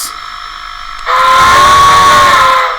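Model steam locomotive whistle from a Blunami sound decoder in a BLI Berkshire, played at half volume: a loud, sustained steam whistle of about a second and a half rises over a softer hissing background, close and without talk.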